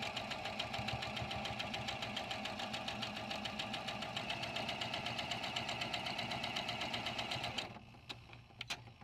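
A sewing machine stitches quilt block pieces together in a fast, steady mechanical chatter, close and even for several seconds before stopping abruptly, followed by a few light clicks.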